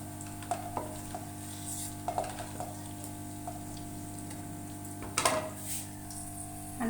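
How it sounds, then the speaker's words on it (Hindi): Eggs frying lightly in a pan for an aloo anday breakfast, heard as a faint, steady sizzle over a constant low hum, with a few soft clicks and utensil taps and a louder scrape near the end. "सिर्फ हमने हल्का सा फ्राई करना है।"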